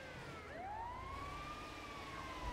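A wailing ambulance siren from the video game Grand Theft Auto V rises and sweeps steadily, moderately distant over low traffic rumble, with no speech.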